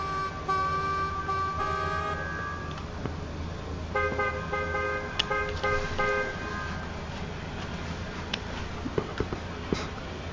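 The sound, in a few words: car horn honking in Gran Turismo 7 video game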